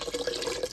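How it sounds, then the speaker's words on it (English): About four cups of water poured into an Instant Pot over browned hamburger meat, a brief gushing trickle heard up close, with no voices. "I'm just going to add about 4 cups of water."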